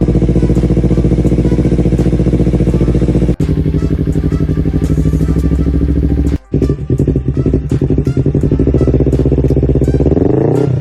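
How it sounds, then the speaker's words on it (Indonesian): Leo Vince GP Corsa import motorcycle exhaust in 304 stainless steel, revving loudly and continuously with a deep rumbling drone, two brief cuts and then sharper blips and crackles near the end. "knalpot import dari Leo Pins GP Corsa"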